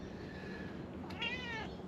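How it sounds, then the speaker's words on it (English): A house cat meows inside a parked caravan in Australia, one drawn-out, rising-and-falling meow standing clearly above a steady low background hum. "This Caravan comes with a cat."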